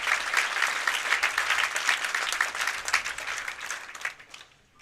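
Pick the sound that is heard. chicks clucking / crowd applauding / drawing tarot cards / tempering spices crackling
crowd applauding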